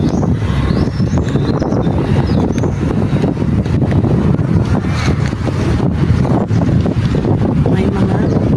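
Strong seaside wind buffeting the microphone with heavy low rumbling gusts, and a person talking underneath.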